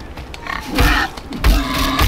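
A pig in Far Cry Primal gives two short, close, low grunts, each a rough throaty burst, with quieter rustling between them.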